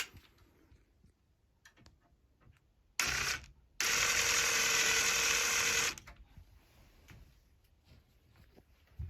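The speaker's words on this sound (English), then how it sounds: "he's going to just screw that screw right in those holes" A screwdriver drives screws into the hinge holes of a washing machine lid, heard as quiet ticks and handling noises around one loud, steady whirring burst of a few seconds.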